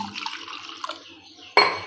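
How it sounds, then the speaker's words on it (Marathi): A small trickle of water pours and drips into a grinder jar, followed by a brighter splash of liquid near the end, close and fairly quiet. "ज्याच्यामध्ये आपण वाटण केलं होतं त्याच्यामध्येच थोडंसं पाणी ओतत आहे"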